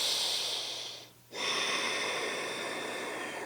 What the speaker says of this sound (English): Breathing into the stretch.